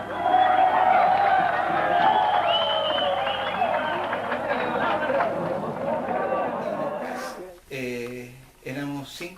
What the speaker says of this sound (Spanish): Mira la gente como aplaude porque se fugaron